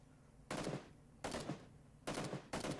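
Enemy gunfire in a shooter game, four short bursts of rapid automatic shots at moderate distance, crisp and evenly spaced, with quiet pauses in between.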